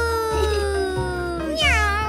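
A cartoon cat meows in a long, drawn-out, wavering cry that rises at the end, loud and close over a music bed, with no speech.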